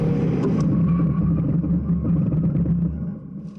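An Audi A1 30 TDI in a hard braking test makes a steady, fairly loud low road and tire rumble that fades toward the end as the car slows.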